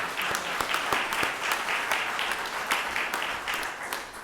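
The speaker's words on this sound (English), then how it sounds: "Let's just give another round of applause to the people who put this together." Applause from a gathered audience at a leadership event, honoring its organisers: dense, steady clapping throughout with a few sharper individual claps standing out near the front, sustained without a break.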